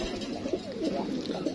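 Pigeons coo in a loft housing fancy and high-flyer breeds, a few close, soft throaty calls rolling one after another over a low murmur of background noise.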